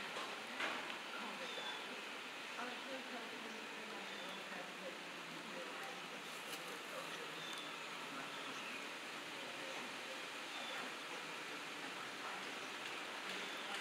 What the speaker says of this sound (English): Hear that rain?